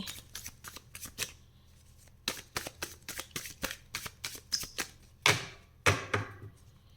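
Tarot cards are shuffled by hand in a quiet room, a run of quick papery riffles and flicks in bursts with short pauses, close and soft, ending with a couple of firmer taps.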